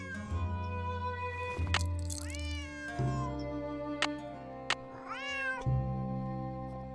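Yuri the cat in the game Nancy Drew: Secret of the Old Clock meows several times, two long drawn-out rising-and-falling yowls close up, over a low steady hum with a few short clicks.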